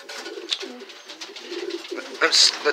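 Pigeons coo softly outdoors in repeated low calls while a person talks over them, with a brief louder flutter near the end.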